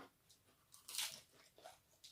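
Someone chewing a liver dish cooked with fresh coconut milk, with faint, close crunching and squishy bites, one louder crunch in the middle and quieter chewing around it.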